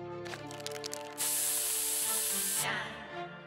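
Pepper spray fired in South Park: The Stick of Truth, a bright, loud, sustained hiss lasting over a second that cuts in sharply and stops abruptly, preceded and followed by game sounds.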